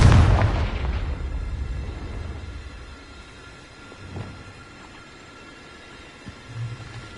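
A spell-blast explosion in a video game: a loud, booming burst at the start that rumbles and fades over a few seconds, followed by a couple of fainter thuds and pops.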